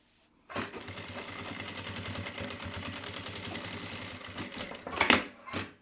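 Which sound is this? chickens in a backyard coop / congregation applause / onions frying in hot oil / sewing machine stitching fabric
sewing machine stitching fabric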